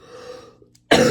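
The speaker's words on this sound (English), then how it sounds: "and coughing a little" A person clears their throat and coughs, a short low rasp followed by a sudden loud burst, close and alone.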